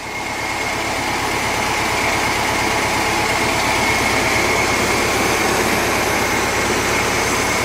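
A Volkswagen engine idles steadily and loudly, with a constant rhythmic chugging and a high whine, close by and unchanging.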